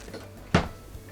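A silverware drawer in an RV kitchen, a 2020 Forest River Stealth 3114G, opens or shuts with a single short, close wooden thump in an otherwise quiet room.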